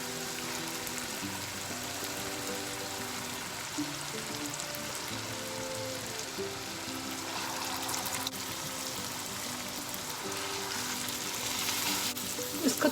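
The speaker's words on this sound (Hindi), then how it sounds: "इसमें मैं कीमा ऐड करूँगी" Minced meat (keema) frying with garlic and ginger in a karahi gives a steady, close sizzle that runs unbroken throughout, with faint stirring and no talk.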